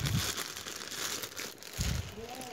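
Plastic packaging of a component AV cable for an LED TV being opened, with two short bursts of crinkling at the start and near the end over a low hiss.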